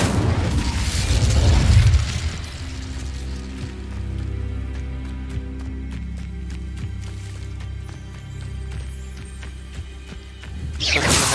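Casting the Incendio fire spell in Hogwarts Legacy, a loud booming burst followed by a fading rumble and crackle, with a second burst near the end.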